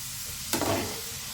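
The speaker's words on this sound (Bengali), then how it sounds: "এবার দেখো প্রায় অনেকটাই ফ্রাই হয়ে গেছে" Sweet corn kernels frying in hot oil, a steady close sizzle that flares suddenly about halfway through and then settles back to a continuous crackle.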